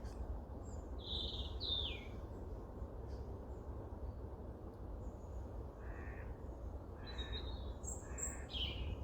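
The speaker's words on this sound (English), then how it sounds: "There's a crow." A few distant bird calls, including a crow's harsher cawing notes toward the end, ring out over a quiet, steady outdoor background.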